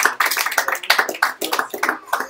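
A small group claps in a quick, uneven patter, close and fairly loud, the individual hand claps distinct rather than blending into a roar, with no talk over them.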